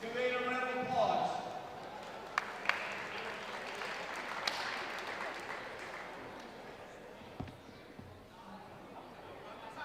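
At a high school wrestling tournament, the crowd applauds a pin with scattered, moderately distant clapping and crowd chatter, while an announcer's voice is heard over the start.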